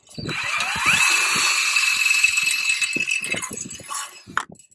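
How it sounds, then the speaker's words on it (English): A power drill bores a small hole into a chain link fence pipe, its motor whining up to a steady high pitch for a few seconds over scattered rattles and clicks, then stopping with a few handling knocks. "we're going to drill a small hole right into the pipe on each of these marks"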